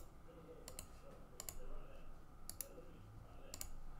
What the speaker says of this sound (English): and click on submit